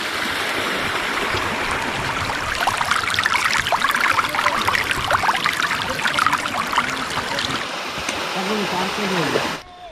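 A small village waterfall and stream in Chhattisgarh rush with clear water, making a steady, close, loud wash and splash that holds for nearly ten seconds before cutting off abruptly at the end.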